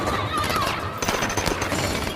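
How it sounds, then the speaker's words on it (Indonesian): Gunfire in a movie shootout, rapid shots cracking in quick bursts amid a busy film soundtrack, with the densest volley in the second half. "dan pada akhirnya baku tembak pun terjadi."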